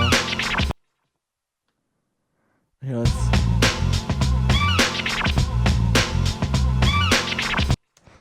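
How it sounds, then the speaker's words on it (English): Raw sample loop from an old underground hip-hop track plays loud and punchy with a choppy, rhythmic groove after a brief spoken word and a two-second silence. "we're going to use a sample loop from an old hip-hop track"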